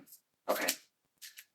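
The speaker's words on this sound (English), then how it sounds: "Let me just straighten these out before I start shuffling again." Tarot cards being straightened and shuffled by hand in a quiet room, a burst of papery riffling followed by a shorter second shuffle, close and soft, with a brief spoken word at the start.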